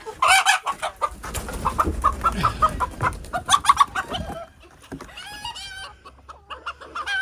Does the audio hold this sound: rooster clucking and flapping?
yes